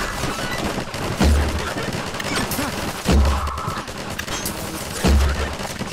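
Rapid gunfire in Garry's Mod, dense crackling bursts with three heavier thumping impacts spaced about two seconds apart, loud and continuous, with a voice shouting intermittently over the shooting.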